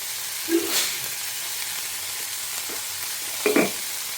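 Cluster beans sauté with salt in a pan on a home stove, giving a steady soft sizzle. Two brief stirring scrapes stand out near the start and toward the end.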